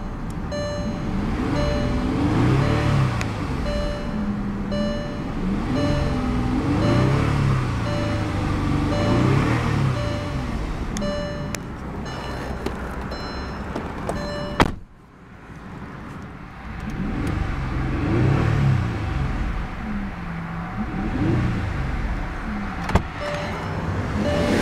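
A 2004 Volkswagen Phaeton with a W12 engine idles steadily and fairly loudly with a smooth low hum and a faint tone, broken by a brief sharp click mid-way before the running sound returns.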